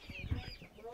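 Broiler chickens on a poultry farm cluck softly in a few quick, faint bursts nearby, with low background noise.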